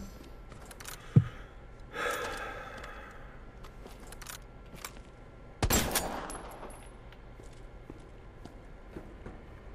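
Gunshots in the Resident Evil 2 video game: one sharp close shot early, then a louder blast later that rings out in a decaying tail, with quiet footsteps and ambient game noise between.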